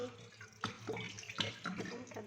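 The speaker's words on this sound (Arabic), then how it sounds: "نقوم كبين المية" Ice-cold water is poured over freshly blanched, still-hot green molokhia leaves, making soft, quiet splashing and running water while a voice talks nearby.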